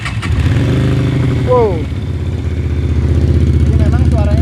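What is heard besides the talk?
Keeway V250 FI motorcycle engine starting and idling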